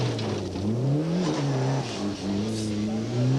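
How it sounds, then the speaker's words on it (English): Rally car engine on a 1991 Hunsrück Rallye special stage, including a 16-valve Lancia, revving loud and steady with rising and falling pitch as it accelerates, close by, with faint voices beneath. "right behind them is Giel Bos in the 16-valve Lancia, and he's caught them up already"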